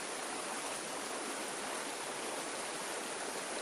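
A river flows in a steady, even rush of water, constant and unbroken throughout, soft and enveloping, with no voices or other sounds.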